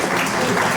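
A crowd at a stage program applauds in a dense, even burst of clapping that lasts under a second with no pause.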